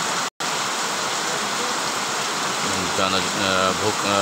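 Heavy rain pours down steadily over a village in a hilly area, a dense, continuous hiss that stays loud and even throughout, with a voice starting to talk over it near the end.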